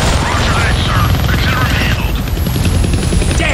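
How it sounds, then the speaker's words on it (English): A helicopter in the Deadpool video game powers up with a loud, steady rotor and engine roar, a high whine sweeping across the top, as a voice speaks over it. "They found the helicopter's on switch."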